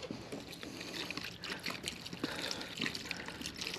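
Water poured and splashed across a fishing boat to rinse off fish blood, a steady broadband wash of trickling and splashing that runs unbroken, with no voices.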